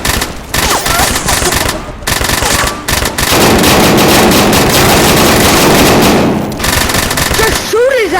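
Loud, close gunfire from a VR shooter video game, with rapid bursts of automatic fire and single shots running almost continuously, plus brief voices between volleys.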